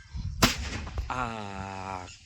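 A rock blast in a quarry goes off as one sharp, heavy crack with a rumbling tail, close and loud, followed by a long tonal cow-like call or horn that rises over the settling debris noise.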